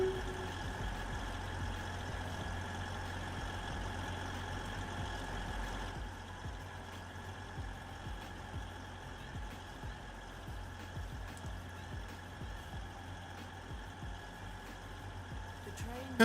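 A diesel train engine in the Roblox SCR railway game drones steadily, a low continuous hum that softens slightly partway through and carries on unchanged without speech.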